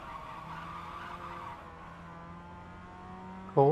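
An iRacing race car, a Mazda MX-5 at Silverstone, skids its tyre on a wet patch of track, a sustained squeal over the engine drone that ends in a brief louder burst.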